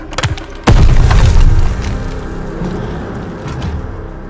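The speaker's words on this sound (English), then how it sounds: "Grenade!" A loud grenade blast in a war video game lands with a sharp, heavy boom after a few small clicks, then its deep rumble rolls off and fades over several seconds.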